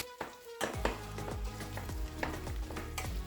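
Beef mince sizzles loudly in a hot pan while a utensil stirs and breaks it up, with repeated scraping knocks over a constant crackle.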